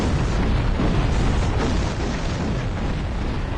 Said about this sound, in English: If you get hurt by the explosions, use your health.